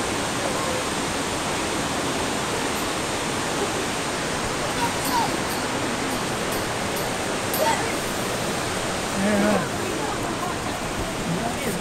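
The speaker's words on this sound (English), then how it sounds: "See the waterfall right there?" Waterfall at Capilano Suspension Bridge Park in Vancouver, British Columbia, a steady broad rushing roar of falling water that fills the whole scene, with faint voices briefly audible beneath it.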